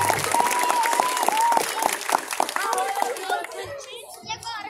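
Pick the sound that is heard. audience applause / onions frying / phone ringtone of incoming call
audience applause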